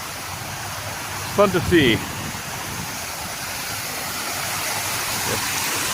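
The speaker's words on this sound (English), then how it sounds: "beautiful, just plant wall, waterfall setup." An artificial waterfall pours down a plant wall with a steady, even rush of falling water. A person speaks briefly near the start over it.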